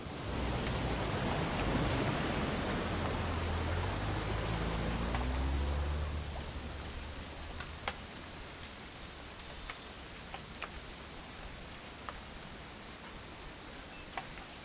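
Steady rain in the game What Remains of Edith Finch, a dense hiss of falling drops that is louder at first, then settles softer with occasional individual drips and taps.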